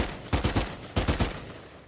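Gunfire from Uncharted 4 multiplayer arrives as two short bursts of rapid, punchy shots separated by a brief gap, loud and close.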